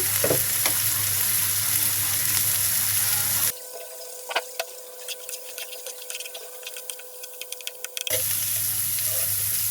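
Onions frying in a pan give a steady, close crackling sizzle that drops away midway to quieter clinks and scraping, then returns at full strength.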